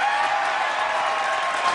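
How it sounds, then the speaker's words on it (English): Studio audience applause, a dense steady wash of many hands clapping at moderate distance, sustained evenly with no pauses and no voices on top. "And there's applause here."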